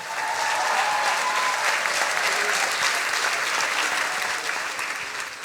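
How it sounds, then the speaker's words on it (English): Sustained applause from a large audience at a Science Slam stage event, steady and loud for the whole stretch, with a dense wash of many hands clapping and no speech over it. "Please a big applause for Alina Pushkarev."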